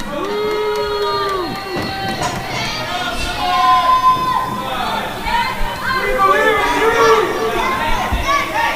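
A capacity crowd in a wrestling arena, a loud continuous roar of cheering and chatter with excited voices, running throughout beneath people talking.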